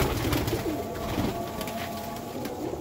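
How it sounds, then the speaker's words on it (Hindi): Pigeons, young breeding stock kept in a bird market or loft, coo in a dense continuous flock murmur, steady and close with layered low burbling calls throughout. "देखें मियाँ नज़ीर वाले कबूतर हैं बीच में"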